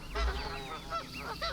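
A goose honks several times in quick succession from a farm-animal sound sample, loud and close with no talking over it.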